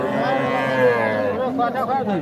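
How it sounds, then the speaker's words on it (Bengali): A Sahiwal heifer calf at a cattle market, one drawn-out close moo followed by murmuring voices and market bustle. "এটা শাহিওয়াল বকনা"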